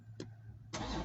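A warm Dodge Scat Pack muscle car fires up: a short crank burst, a pause, then the engine catches with a loud, full roar that carries through to the end.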